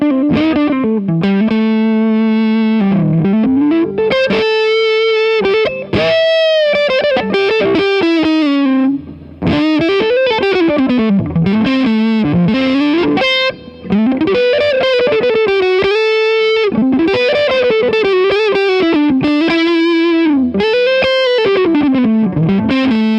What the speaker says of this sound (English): you get a bloody amazing boutique Marshall quality overdriven sound, as you can hear it on this demo